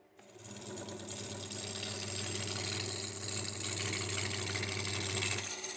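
A wood lathe runs steadily with a low, constant motor hum and a light rattling texture as a cylinder is roughed round, holding near and fairly loud for several seconds before cutting off abruptly.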